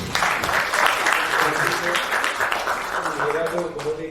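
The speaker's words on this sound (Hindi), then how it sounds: "आदित्य के लिए जोरदार तालियां।" Loud, sustained applause from an audience at a student felicitation celebration for IIT JEE 2023 results, a dense clapping wash lasting the whole stretch, with voices murmuring and talking underneath.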